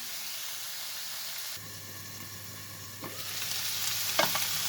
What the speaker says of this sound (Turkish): Aynı şekilde biraz da yağ biberlerimizden sodeleyelim.